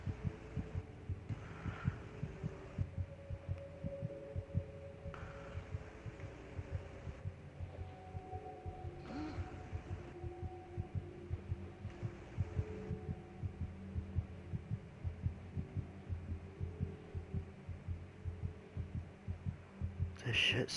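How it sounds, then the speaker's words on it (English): Steady low heartbeat thumps pulse continuously in Among the Sleep beneath a droning hum, with faint tonal game sounds drifting over it and a brighter noise at the very end. "And the heartbeat."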